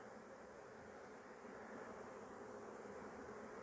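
Honeybees fanning at the entrance of a hive box after a swarm, a steady low droning hum of many wings, faint and continuous with no pauses.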